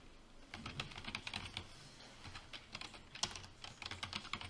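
Quiet, uneven keystrokes on a computer keyboard entering data into an Excel spreadsheet, soft clicks coming in quick bursts with brief pauses, close and faint, with no talking.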